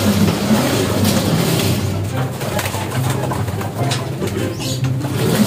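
Pigeons in a stock loft, including newly gifted off-color birds, cooing steadily and close by, a continuous layered throb of soft coos with a faint background hum and no talk.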